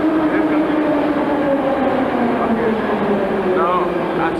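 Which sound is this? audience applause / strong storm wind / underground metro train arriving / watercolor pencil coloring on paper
underground metro train arriving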